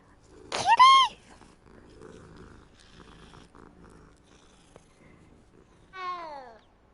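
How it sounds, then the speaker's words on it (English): A cat being petted in Hogwarts Legacy gives a loud, close call near the start, then quiet low sounds, then a second rising call near the end, with little else around it. "You can pet the cat."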